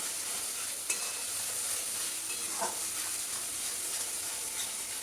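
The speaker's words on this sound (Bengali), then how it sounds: "খুব ভালো করে মশলাটা কষে নিতে হবে" Spice paste for mutton curry fries and is stirred in a pan, a steady close sizzle running throughout with light scraping and one brief clink near the start.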